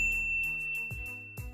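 A notification bell sound effect gives several bright ding tones in a quick sequence, clear and close with no talking, the last two strikes slightly heavier.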